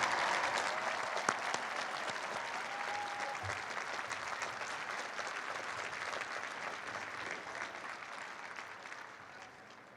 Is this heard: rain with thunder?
no